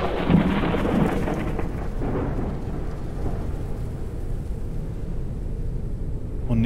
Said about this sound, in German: Können wir mal aufhören mit dem Gewitter?